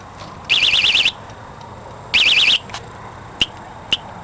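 A bicycle trailer alarm sounds two loud warbling electronic tones in short bursts, followed by a couple of brief sharp beeps, close to the listener.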